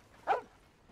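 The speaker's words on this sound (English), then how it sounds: "Oh, there's a doggy." A dog in Red Dead Redemption 2 gives a single short bark, close and clear against a quiet game background.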